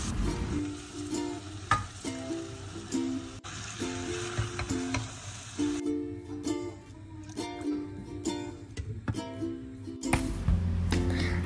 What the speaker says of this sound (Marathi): आता मसाल्यामध्ये मी आपले प्रॉन्स आणि तांदूळ टाकले आहेत आणि बिर्याणी शिजायला ठेवून दिली आहे।